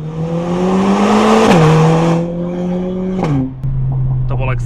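Mercedes-AMG CLA45S engine heard from outside the car: a loud, steady drone that dips in pitch, holds, then drops again after a quick blip, with a short pause near the end.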